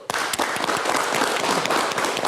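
Studio audience applause on an Indonesian political talk show, a dense, steady wash of many hands clapping that starts abruptly and holds loud and close throughout.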